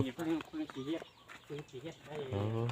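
Chickens cluck on a Thai mixed-agriculture farm. A series of short, close, moderately soft clucks comes in quick clusters, with faint talk and ambient noise between them.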